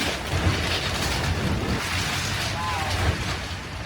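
Powerful ocean waves from Hurricane Fiona batter the Canadian coast, a dense roar of surf and wind with heavy buffeting against the microphone, continuous and close.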